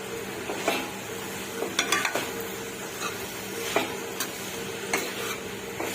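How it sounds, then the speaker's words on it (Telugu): Broad bean curry being mixed in a pan, with a steady low sizzle and scattered light scraping strokes of a spoon, a few sharper clinks near the middle, close and moderately quiet. "వేసుకున్న తర్వాత నేను ఒకసారి మిక్స్ చేసుకుంటున్నాను"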